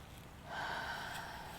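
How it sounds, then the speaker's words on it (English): A person takes one slow, deep breath, a soft airy inhale swelling into a sustained breathy rush that fades gently, heard close and alone without talking. "Let's just start with a breath"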